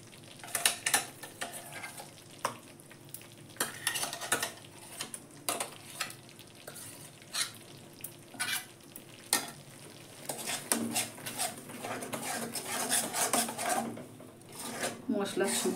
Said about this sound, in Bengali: মশলার সঙ্গে কষে নেব।